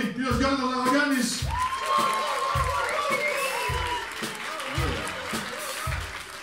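A live concert audience at a cover show claps in scattered applause and light cheering, while an announcer talks loudly over it with strong, regular pauses.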